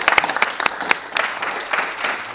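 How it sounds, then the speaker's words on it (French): A studio audience applauds in a brief burst of dense, close clapping that carries on evenly for a couple of seconds. "Applaudissements."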